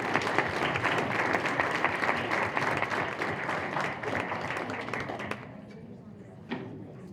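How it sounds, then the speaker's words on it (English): A board meeting audience gives a round of applause for honored teachers, a dense burst of clapping that rolls on for about five seconds before thinning out to a few scattered claps. "a round of applause for all of them"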